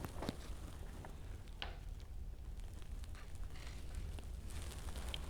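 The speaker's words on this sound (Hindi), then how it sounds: "अब हम प्याज़ों को फ्राई कर लेंगे।" Sliced onions fry in oil in a pot for pulao, a soft continuous sizzle with faint crackles and pops, low and steady throughout.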